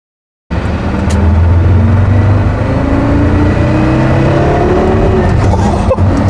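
Porsche Carrera GT engine at about quarter throttle, heard from inside the car: after a short silence the engine comes in loud and close with a rising, rasping drone that pulls up through the revs and holds strong to the end.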